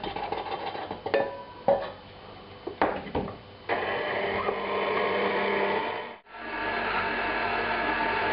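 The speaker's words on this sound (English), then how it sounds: "Now just back onto the mixer with more flour." A stand mixer kneads pizza dough as more flour goes in: a few soft clinks and knocks, then a steady motor whir that runs on with one brief dip, fairly quiet.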